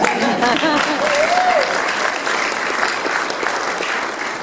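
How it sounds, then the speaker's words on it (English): Dense audience clapping fills the room at a campaign event in Palo Alto, steady and loud throughout, with a brief voice or whistle rising over the crowd early on. "you can clap for that"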